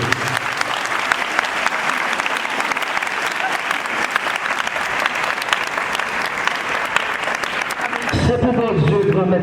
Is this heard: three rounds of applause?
yes